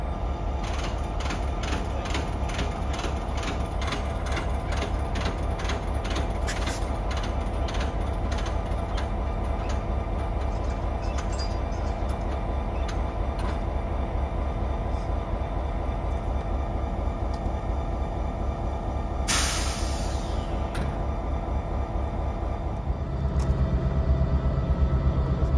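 Freight locomotives being switched onto a train in a rail yard, giving a steady loud rumble with rhythmic clanking and ticking throughout and a brief hiss near the end.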